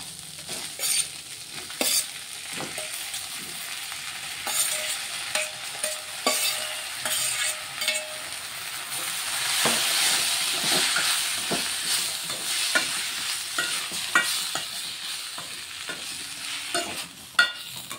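Green chillies, mint and chopped tomatoes sizzle in a hot pan for a mint-tomato chutney, with a steady frying hiss and intermittent scraping clicks from a spoon stirring, close and clear with no talk.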